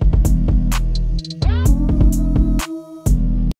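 A dry, punchy music mix with drums and layered instruments, tightly played with little ambience or tail between hits.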